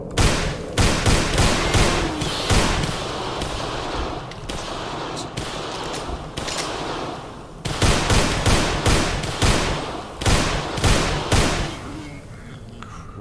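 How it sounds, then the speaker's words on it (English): Bursts of automatic gunfire in a first-person shooter video game, loud close volleys of rapid shots that pause and resume several times, with faint talk in places. "wait for him to come into the light so I can see him and shoot him"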